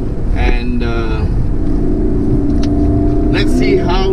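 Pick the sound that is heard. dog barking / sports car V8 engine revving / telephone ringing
sports car V8 engine revving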